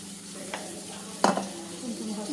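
Masala paste for a bitter gourd curry sizzles softly in a pan, then a sudden splash as water is added, with one earlier small clink and a steady simmering hiss after.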